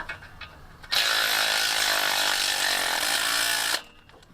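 A Milwaukee cordless power tool drives a bolt into the frame of a 1984 Foxbody, running as one loud, steady, close whir for about three seconds that starts and stops abruptly.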